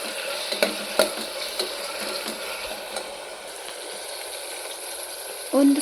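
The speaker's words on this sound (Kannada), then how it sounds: "ಈಗ ನಾವು ಟೊಮೊಟೊ ಹಾಕುವ. ಇದನ್ನು ಚೆನ್ನಾಗಿ ಫ್ರೈ ಮಾಡ್ಕೋಬೇಕು" Tomatoes fry in hot oil in a pan for a pulao, giving a steady sizzling hiss with a few soft stirring knocks near the start.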